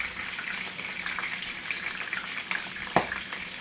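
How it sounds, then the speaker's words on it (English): Tostones (fried plantain slices) sizzle in a hot fryer with a steady, close, crackling hiss and one sharper splash or pop near the end. "I'm going to take my tostones and I'm going to throw them in the fryer."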